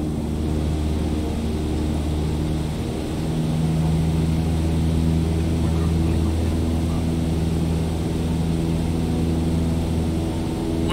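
A steady, loud propeller aircraft engine drones at full throttle during a climb in Microsoft Flight Simulator, its low tonal hum and harmonics holding constant throughout.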